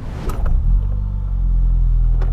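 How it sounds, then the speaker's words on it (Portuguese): A Ford Ka car engine starting and settling into a steady idle, a short cranking burst followed by a loud, continuous low rumble close by. "Então, bora dar a partidinha aqui"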